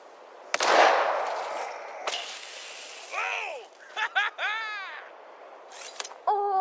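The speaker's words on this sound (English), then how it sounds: "East side for the next explosions." Explosions go off in the zombie video game Dead Island 2, a few sharp, loud blasts spaced apart with warbling, whooshing effects and ringing debris in between.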